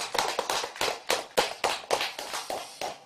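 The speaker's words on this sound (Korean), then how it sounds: "한번 박수 한번 큰 박수 쳐주십시오" An audience at a Buddhist memorial service at a temple in Buyeo applauds, heard as about a dozen distinct, fairly even claps from nearby, with no talking.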